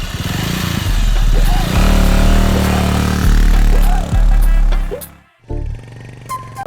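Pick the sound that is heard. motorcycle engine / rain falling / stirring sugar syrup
motorcycle engine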